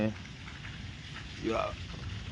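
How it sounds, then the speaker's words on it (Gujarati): Rain falls during a summer thunderstorm in Okhamandal, a steady close patter running throughout while someone talks briefly over it. "આ વરસાદ ચાલુ છે ઝાડવા વીજળીના કડાકા ભડાકા ચાલુ છે"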